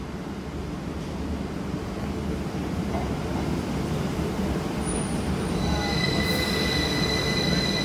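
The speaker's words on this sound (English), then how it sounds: "This will shortly be our train to London Paddington." A train pulls into a station platform on a service to London Paddington, its wheels squealing in long, bright, sustained tones over a steady loud rumble that runs throughout, with no voices.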